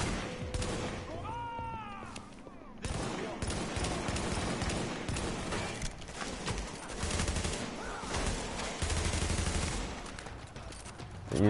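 Rapid gunfire rattles almost continuously in Tom Clancy's The Division during a side-mission firefight, loud sustained bursts layered with game effects.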